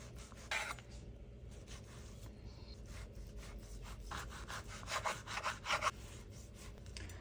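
A knife slices Angus chuck pot roast beef into squares, heard as faint repeated rasping strokes that come in bursts and grow a little louder toward the end, with no one talking.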